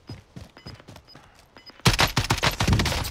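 A rapid string of gunshots in Call of Duty: Warzone, quieter at first and then a much louder burst of dense, fast fire, like game weapons firing up close.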